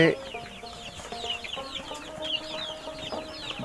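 Tiger and Fayoumi chicken chicks peep together in a farm setting, with many high, rapid cheeps overlapping steadily from start to finish, alongside occasional louder clucks and a steady low background hum.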